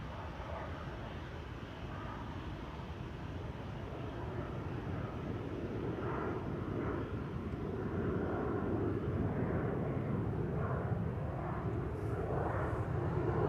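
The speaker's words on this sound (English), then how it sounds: "And there is a bizjet taking off." A business jet takes off at Amsterdam Schiphol Airport, a steady, distant engine roar that slowly swells, with no talk over it.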